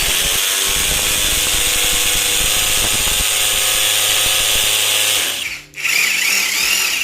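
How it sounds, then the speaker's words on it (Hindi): A rotary hammer drill bores into RCC concrete with a loud, steady, buzzing hammer whine, breaks off for a brief moment near the end, then starts again. "अभी हम ड्रिल करेंगे आरसीसी में"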